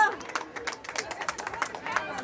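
An outdoor crowd claps at a prize ceremony following a pot race in the Huasteca, a dense patter of applause with chatter mixed in.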